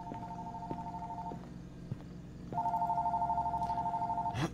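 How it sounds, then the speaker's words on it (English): Telephone ringing inside the video game Fears to Fathom, a steady electronic tone in two long bursts separated by a short pause, fairly close and clear over a faint low background. "Phone's ringing."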